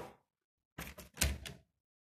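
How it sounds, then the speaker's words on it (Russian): A frost-stuck balcony door is yanked in a cold winter home, a brief cluster of loud rattling thumps and jolts after a short pause, with a faint voice trailing off just before. "у меня от мороза дверь не открывается"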